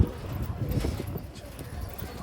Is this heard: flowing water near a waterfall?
no